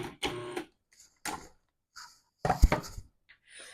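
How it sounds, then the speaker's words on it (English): Food processor pulsing flour, sugar and salt together for hand pie pastry dough, giving a few short, loud whirring bursts separated by silence. "We're going to pulse this a couple times just to bring it all together."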